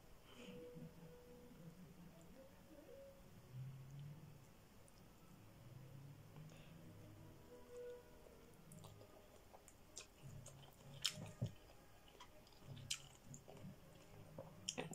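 Crunchy chewing of crispy Thai pork rinds eaten with a spicy long-bean salad, soft close bites and squishy mouth sounds repeating through a quiet room, no talking.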